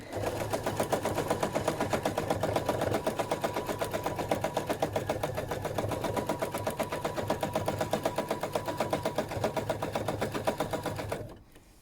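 Sewing machine quilting a filling stitch over appliqué, a steady rapid needle chatter running continuously and fairly loud for about eleven seconds before stopping abruptly.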